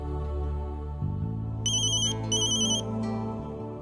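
A telephone ringtone sounding in a home, a bright electronic melody playing twice in short bursts over a steady low musical bed.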